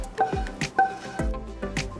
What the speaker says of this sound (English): take our cheese sauce, pour that into the pot,